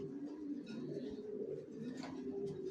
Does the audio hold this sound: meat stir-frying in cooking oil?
no